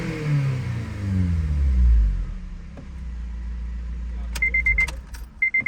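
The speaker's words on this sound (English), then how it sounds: "Honda actually recommends us to rev the motor up" Honda car engine revving, a deep rev that climbs and falls in the first seconds then settles into a low idle, followed by a few sharp clicks and a repeated electronic chime.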